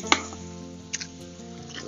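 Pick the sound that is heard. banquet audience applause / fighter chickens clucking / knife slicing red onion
knife slicing red onion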